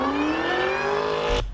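A supercharged Mopar car lets out a loud, steady supercharger whine, its pitch rising gradually as the engine builds, then cutting off abruptly near the end with a low rumble left behind.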